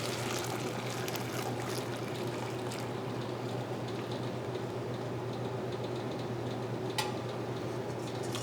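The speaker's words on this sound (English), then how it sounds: "And so we're going to strain that." Chicken and shrimp broth for paella, made from chicken thigh bones and shrimp bodies, poured through a strainer in a steady, quiet liquid trickle with a low background hum.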